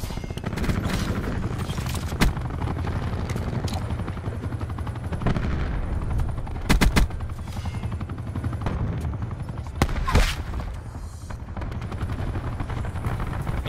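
Spitfire gunfire in Call of Duty Black Ops 4 team deathmatch, heard as dense, continuous automatic bursts over a loud, roaring game soundscape. The firing is sustained throughout, with a few sharper cracks standing out.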